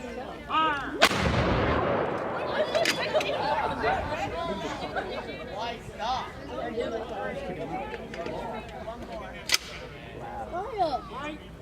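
A historical artillery cannon fires during a 2018 Jamestown demonstration, one loud boom rolling out early and a sharper report later, with crowd chatter and people talking throughout.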